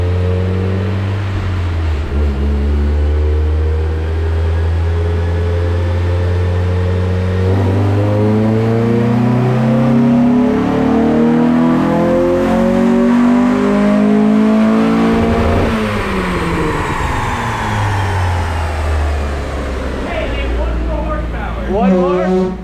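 A Mazda Miata engine revs during a loud dyno pull, climbing steadily in pitch to a peak and then dropping off sharply. The sound is close and sustained, with faint voices underneath.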